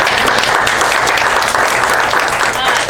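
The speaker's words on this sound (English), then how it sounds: "So can we give them a round of applause for" Steady audience applause fills a community forum hall, dense and continuous throughout, loud and close with no gaps.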